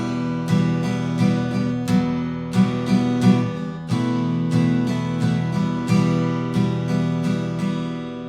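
Acoustic guitar strums a chord progression in a steady rhythm, with chord changes every second or so. It is close and full, with no talking.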